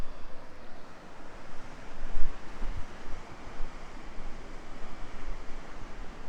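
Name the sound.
Khedi waterfall, falling water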